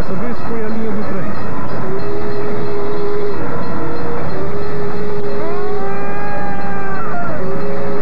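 Train passing on a railway line, a loud rumbling roll with sustained horn-like tones rising partway through, close and continuous.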